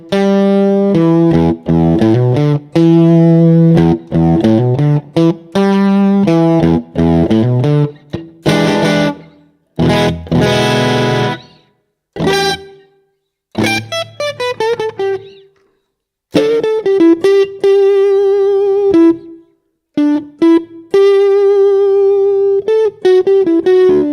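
A slightly fizzy distorted electric guitar runs through a Waves amp simulator, playing loud, busy riffs and chord phrases broken by short gaps, with some notes left to ring out.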